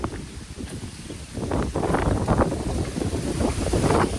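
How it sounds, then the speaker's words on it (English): Wind buffets the microphone in gusty rumbling bursts on a farm in Jamaica, loudest in the second half, with no one speaking. "Oh, it's windy."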